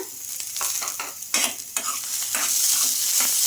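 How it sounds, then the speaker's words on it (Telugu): Green chillies and fresh coconut pieces fry in a pan, a bright steady sizzle broken by repeated scraping stirs, close and moderately loud with no voices. "ఇవన్నీ వేసేసుకొని బాగా ఫ్రై చేసుకోవాలి ఇలా పచ్చిమిర్చి కూడా బాగా వేగిన తర్వాత అయితే ఇందులోకి పచ్చి కొబ్బరి ముక్కలు అయితే వేసుకుంటున్నాను"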